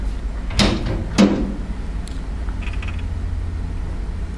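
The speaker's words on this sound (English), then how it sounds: "We now have a swing-away rear door," Two sharp latch clunks and a creaking swing come from a JCB skid steer's swing-away rear door being opened, nearby and distinct, followed by quieter mechanical rattles.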